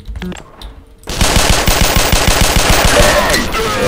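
Rapid machine gun fire bursts out after a second of quieter game sound in Black Mesa 2009, a Half-Life 2 mod. The loud, evenly spaced shots run continuously for almost three seconds.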